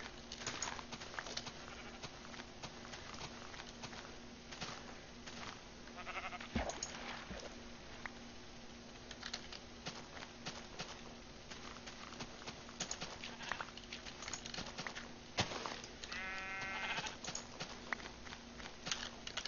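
Minecraft sheep bleat in short harmonic bursts amid game footsteps and clip-clop sounds, with one clearer bleat late in the run over a steady hum.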